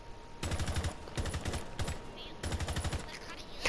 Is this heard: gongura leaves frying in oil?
no